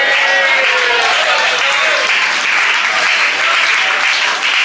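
A church congregation at a youth week Sunday school event applauding loudly and continuously, a thick wall of clapping from a crowd with faint voices mixed in throughout.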